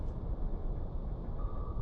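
Deep, muffled rumbling and creaking noise of an enemy submarine breaking up underwater in a naval submarine simulation game, a low, steady grinding wash with a faint thin tone appearing toward the end.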